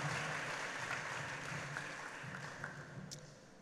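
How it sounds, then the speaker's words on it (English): A crowd at a PNM public meeting in Arima applauds for coordinator Anthony Garcia, a continuous wash of clapping that stays steady and slowly fades slightly over a few seconds. "could we give him a special round of applause?"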